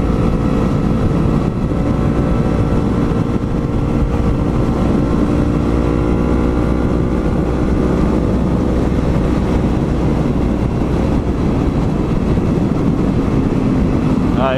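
A motorcycle rides along a road, its engine holding a loud, steady drone with rushing wind noise close up for the whole stretch.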